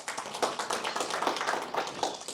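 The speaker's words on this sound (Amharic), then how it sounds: "አጨብጭቡላቸው" Applause from an audience at an event honoring social media influencers, artists and comedians, a few seconds of moderate, uneven clapping from a small crowd.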